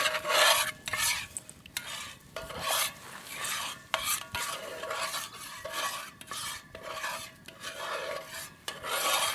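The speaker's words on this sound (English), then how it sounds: "stir, stir, stir" Trout stew stirred in a pot over a hot outdoor fire, a spoon scraping and rasping against the pot in repeated rhythmic strokes, fairly close, with a faint sizzle underneath.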